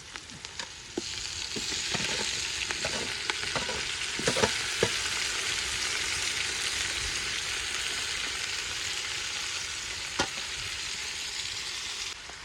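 Tomatoes sizzle and fry with salted onions in a pan for a chicken curry, a steady close crackle broken by occasional clinks and scrapes of stirring, with no talking.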